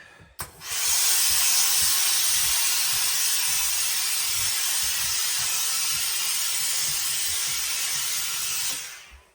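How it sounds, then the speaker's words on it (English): A loud, continuous hiss of steam is applied to a felt hat on a hat block, starting abruptly and holding steady for about eight seconds before cutting off. "So let's put some steam on and see what happens, shall we?"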